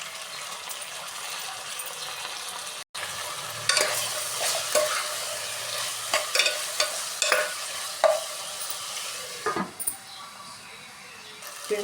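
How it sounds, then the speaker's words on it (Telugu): Chicken frying with browned onions in a pan for a chicken and beans curry, with a steady close sizzle and repeated clattering stirs and scrapes of a spoon over it, briefly interrupted once. "ఇప్పుడు చికెన్ వేసేసి ఇందులో వాటర్ అంతా పోయే వరకు ఉడకనివ్వాలి."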